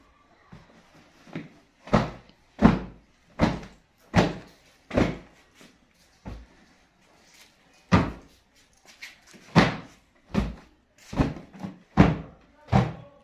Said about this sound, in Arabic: رنا بتنفض الكرسي.